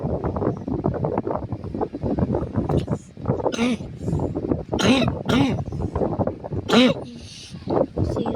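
A person coughs several times in harsh bursts between stretches of talking, close to the microphone with some wind noise.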